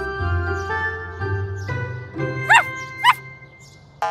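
Two short, high-pitched yips from a cartoon puppy cut through a steady low hum and faint jingling, spaced about half a second apart.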